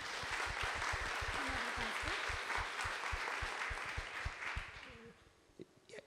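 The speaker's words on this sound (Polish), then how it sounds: "Poprosimy o gorące brawa." An audience applauds at an event about women in the police force, a dense, steady clapping from many hands that holds strong, then thins and fades near the end as a few scattered claps remain.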